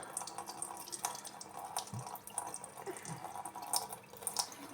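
Water runs and drips from a tap nearby. A soft trickle is broken by small splashes and droplets.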